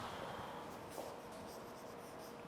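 During a lecture, a pen or marker writes a word: quiet, close scratchy strokes in short bursts over a low, steady room hiss, with no voice.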